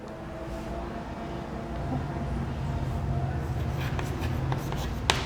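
Pen or pencil scratching across paper during a maths lesson, a continuous close scribble that grows a little louder toward the end and ends with a faint tap.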